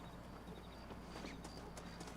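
Horse hooves clip-clopping in the video game Red Dead Redemption as the horse prances, a steady soft rhythm under game ambience with faint bird calls, no talking.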